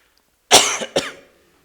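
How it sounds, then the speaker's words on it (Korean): A preacher giving a Sunday sermon at a church coughs twice in quick succession, close and loud, with a short pause between the coughs. "이세벨 얘기하니까 제가 기침이 나네요"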